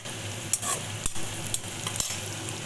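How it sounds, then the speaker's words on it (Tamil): Onion and garlic sauté in a pan with a soft steady sizzle, broken by a few sharp scrapes and taps of a spoon stirring at roughly half-second intervals, close by. "வெங்காயம் பூண்டெல்லாம் நல்லா வதக்கிடுச்சு"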